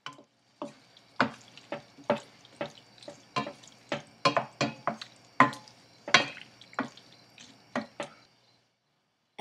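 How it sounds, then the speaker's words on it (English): Chopped tomatoes and onions with ginger garlic paste being stirred in a frying pan, giving a run of distinct scraping, wet clacks about twice a second, close and clear over a faint sizzle, then stopping. "Cut the 5 tomatoes into small pieces and add them to onions. Give them a good mix."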